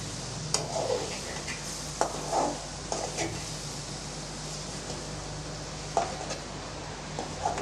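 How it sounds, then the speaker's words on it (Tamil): Egg pepper fry is gently stirred in a pan over a soft, steady sizzle, with a few light clinks and scrapes from the spoon against the metal. "இப்போ நம்ம லேஸாக கிண்டி விட்டுறலாம்"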